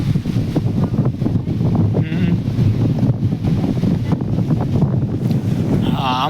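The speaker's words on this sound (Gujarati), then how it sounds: "આમાં જો કે પવનનો અવાજ આવતો હે" Wind buffets a microphone outdoors in a village, with loud, continuous low rumbling and gusty thumps. A few faint higher tones rise briefly near the end.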